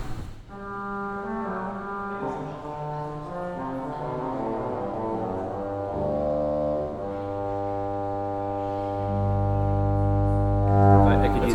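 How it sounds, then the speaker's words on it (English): An 8-foot pedal trumpet stop on a 2017 C.B. Fisk pipe organ in Christ Church Episcopal, Philadelphia, plays a bright, reedy sustained chord that shifts through several changes, loud and continuous with a swelling low note at the end. "It's a pretty bright trumpet there."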